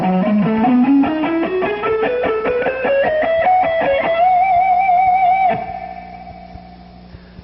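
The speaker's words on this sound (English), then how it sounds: "The third part of the riff sounds like this." Third part of a distorted electric guitar riff: quick picked notes rising in pitch, ending in a sustained, vibrato-bent held note that fades out, loud and solo without speech.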